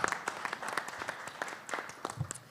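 A panel audience at a media freedom forum gives a modest round of applause, a thin patter of scattered hands that stays fairly quiet and uneven for a couple of seconds.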